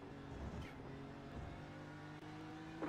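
Race cars roar past in iRacing at Daytona during a 24-hour special event, a steady, loud engine drone with harmonic whine and a few swells as faster traffic closes in and passes, with no talk.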